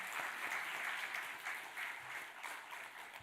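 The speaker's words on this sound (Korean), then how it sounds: "사망 권세 깨뜨리시고 영광 중에 다시 살아나신 우리 주 예수님께 영광의 박수 한번 올려드리겠습니다" A church congregation claps in praise during a Sunday worship service, steady dense applause filling the room throughout, moderately distant and even.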